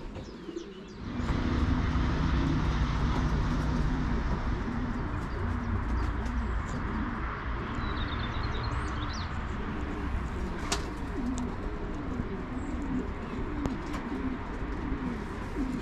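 Racing pigeons return to their loft in Szczecin, cooing in repeated soft, throaty phrases over a steady outdoor background, with occasional higher chirps and a faint aircraft drone.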